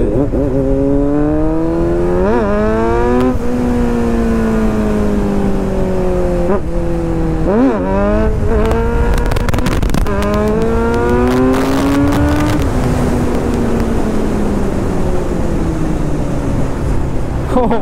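A loud superbike engine revs repeatedly up and down close by, the pitch climbing and dropping in sharp bursts before settling into a steady roar.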